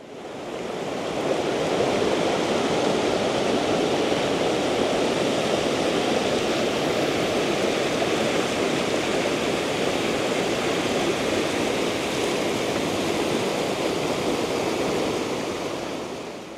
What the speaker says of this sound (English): lots of water in the creek today.